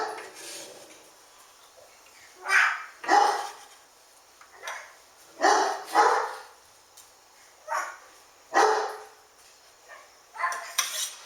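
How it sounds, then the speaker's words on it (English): A puppy barks in repeated sharp yips and bow-wows, spaced irregularly and fairly close, with no voices over them. "the puppy and my granddaughter are back there competing against who's gonna holler the loudest"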